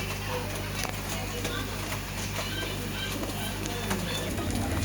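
Madras pigeons crowded together in a cage coo softly and shuffle about, heard close up against a constant low hum. No one speaks.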